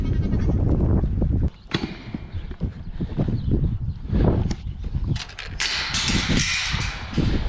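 Young goat doe kids bleat on a farm in a rough, overlapping chorus of short cries, close by, with some clattering and rustling noise toward the end.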